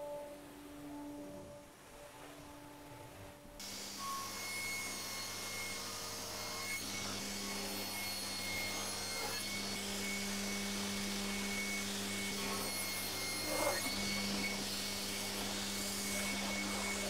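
A table saw runs steadily with a loud, sustained whine and hum as it cuts solid walnut legs for a 1950s-style sideboard, starting abruptly after a quieter stretch of low motor hum and continuing with no talking.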